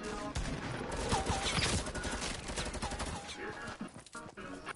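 Rapid gunfire bursts from a Fortnite match, dense and continuous with repeated sharp shots; a voice speaks briefly near the end.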